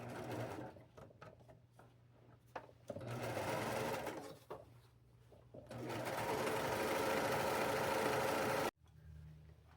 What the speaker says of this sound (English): I'm going to use the serging machine to go down both sides